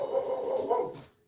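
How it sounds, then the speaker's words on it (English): A dog barks excitedly indoors after the doorbell rings, a close, loud burst of rapid barking that trails off quickly. "Sorry, the dog's going nuts."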